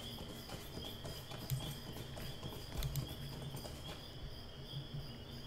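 Faint, steady clip-clop of a horse's hooves as a Beorning rides through Lord of the Rings Online, rhythmic and continuous over a soft bed of crickets and ambient insect hum.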